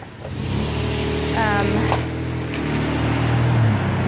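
Cars moving along a road, a steady mid-pitched engine drone building and easing as vehicles approach and go by, fairly close, with a brief higher whine partway through and no talking.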